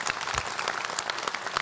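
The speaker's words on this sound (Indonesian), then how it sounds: "Tepuk tangan dong buat Bu Iin" A live audience at a talk-show event gives steady, dense applause throughout, with close, crisp clapping.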